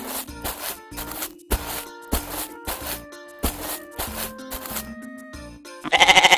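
Baby goat bleating in a series of loud, close, wavering cries with short gaps between them, ending in a brief burst of high-pitched noise.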